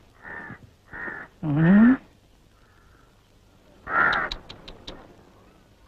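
Harsh crow caws in short repeated bursts, loud and close, with a few separated calls followed by a longer strained one, under light background noise in an outdoor setting.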